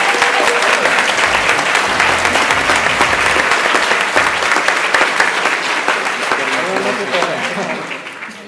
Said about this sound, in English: So give them a big round of applause there.